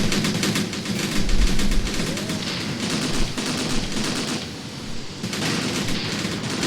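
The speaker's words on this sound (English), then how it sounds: "These are basically World War II era AT guns against semi-modern Soviet tanks." World War II era anti-tank guns firing on semi-modern Soviet tanks in Graviteam Tactics, set in the Soviet-Afghan War: dense, loud gunfire with heavy booming thumps continues without a break, and no voices are heard.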